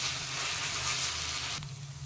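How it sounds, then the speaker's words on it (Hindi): Sauce for fried rice sautéing over a low flame in a pan, a steady close sizzle that drops slightly in brightness near the end, with no talk. "आप सॉस को जितना अच्छे से भूनिएगा उसका टेस्ट उतना ही अच्छा होगा आगे जाके"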